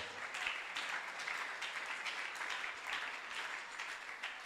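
A church congregation applauds and acclaims the Lord with steady, dense clapping that holds at an even volume throughout, with faint voices mixed into the sound.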